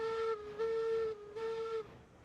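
Steam locomotive whistle in the train game Railroads Online sounding three sustained blasts, two long and one shorter, loud and near with a steady tone, over faint background noise and no speech.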